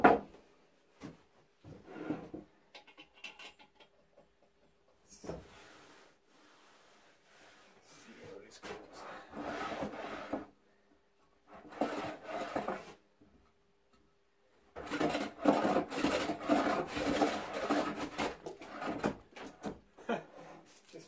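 Waxed hand plane pushed along a guitar-building wood blank in a workshop, giving repeated rough scraping strokes in bursts of a few seconds each, close and fairly loud, with quiet gaps between passes.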